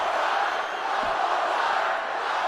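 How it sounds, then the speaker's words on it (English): A wrestling arena crowd booing at a Saturday Night's Main Event show, a loud, sustained roar of many voices filling the hall without a break. "We've not heard these boos in months for him."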